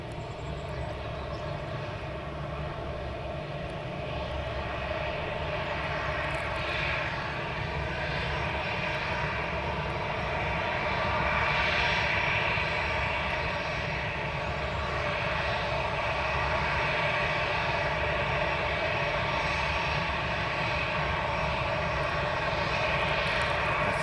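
A Lufthansa airliner taxiing at Manchester Airport, its engines a continuous loud whine and rumble that swells slightly midway, heard from a spotting position nearby.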